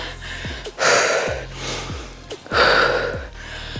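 Heavy, loud breathing at rest after a functional full-body workout: deep gasping inhales and exhales in a slow repeating rhythm, very close.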